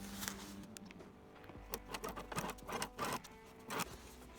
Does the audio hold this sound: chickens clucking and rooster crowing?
no